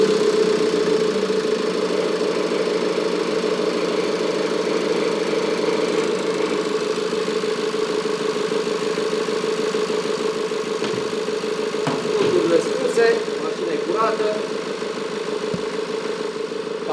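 A BMW 520d F10 with the N47 diesel engine idles steadily just after starting, a continuous loud mid-pitched drone with slight knocking texture running the whole time, close by, with brief metallic clatters near the end.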